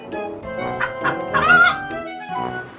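A cartoon farm chicken gives a string of squawky, nasal clucks and calls, loud and close, in short bursts with brief gaps between them.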